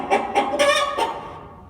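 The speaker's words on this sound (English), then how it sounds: "That was a chicken." A chicken clucks loudly and close by in a quick run of four or five calls, followed by quiet.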